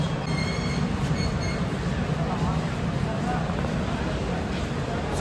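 A train pulls out of Ranchi Junction, with steady rolling rumble and rattling wheels and a faint squeal heard from inside a carriage, continuous and fairly quiet.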